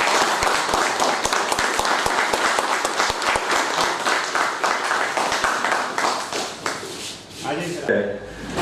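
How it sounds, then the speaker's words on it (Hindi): Audience applause welcoming a guest at a Hindi literary celebration, dense sustained clapping from a crowd in a hall that fades toward the end as a voice begins. "आप सब तालियों के साथ सर का स्वागत करेंगे।"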